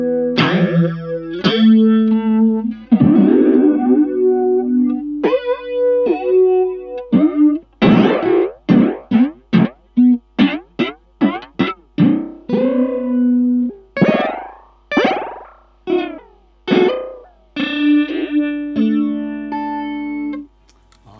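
Dreadbox Disorder fuzz pedal with its static knob driven by an envelope, giving loud, distorted synth-like notes that swoop and sputter in rapid, rhythmic staccato bursts, then settle into sustained buzzy tones, with no talking.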